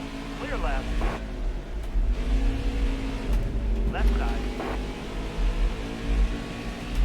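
A NASCAR race car engine in NASCAR Heat 5 drones loud and close, climbing in pitch while accelerating off a corner, with other cars' engines buzzing around it.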